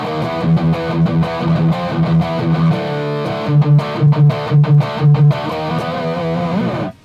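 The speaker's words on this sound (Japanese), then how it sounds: "今もう一回ね、ちょっとレクチの方に戻してみました。ちょっと弾いてみます。" An electric guitar plays through a Mesa Rectifier tube amp in a studio, heavily distorted, with chugging palm-muted riffs and sustained chords, loud and close, ending in an abrupt stop.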